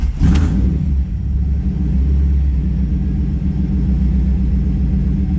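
A GM F-body car engine fires up with a sharp starting burst, then settles into a steady, close, rumbling idle.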